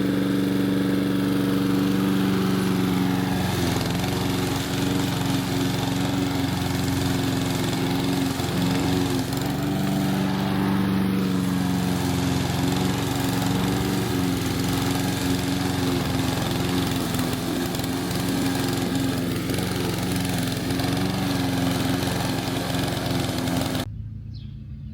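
Lawn mower cutting long, overgrown grass, a loud, continuous engine drone with steady low rumble and slight load fluctuations throughout, close by and cut off abruptly at the end.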